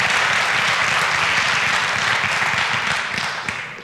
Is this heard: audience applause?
yes